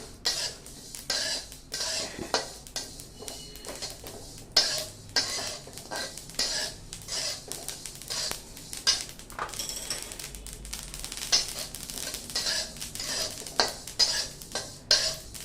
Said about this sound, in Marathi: तीळ भाजायला लागले की असे उडतात तडातड उडतात म्हणजे तीळ छान भाजले जातात